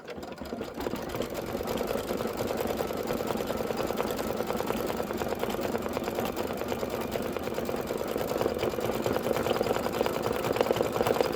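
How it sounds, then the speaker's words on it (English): An embroidery machine steadily stitches a decorative outline on a spring pennant held in a hoop, a continuous close mechanical whirring with a fast rhythmic needle beat throughout and no talking. "Now I'm just going to do the decorative stitching."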